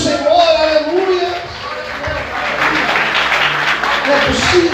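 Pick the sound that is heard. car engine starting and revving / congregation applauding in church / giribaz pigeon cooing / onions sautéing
congregation applauding in church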